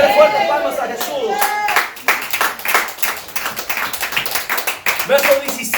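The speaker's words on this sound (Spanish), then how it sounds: "Dale fuerte palmas a Jesús." A church congregation claps for Jesus during a Spanish-language sermon, rapid loud hand claps packed close together after a brief spoken call from the pastor.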